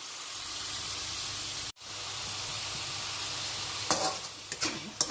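Chicken pieces fry in a pan with a steady, close sizzling hiss that cuts out for a moment, then returns, with a few clattering stirring knocks near the end.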